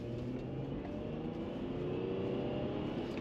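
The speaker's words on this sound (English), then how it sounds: "it's not bad for a little old diesel in terms of grunt" An Audi A4 B5 diesel car drives along at a steady pace, its low engine drone and road rumble continuous and fairly quiet from inside the cabin, with no talk.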